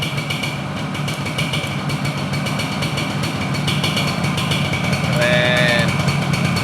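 A Yamaha 125Z motorcycle engine idles close by with a smooth, even rumble, joined briefly near the end by a faint tonal sound.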